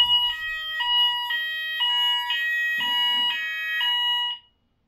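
An indoor fire alarm system under test sounds a repeating electronic tone, a steady series of evenly spaced pulsing beeps, loud and close, with brief faint noise partway through before the alarm cuts off abruptly.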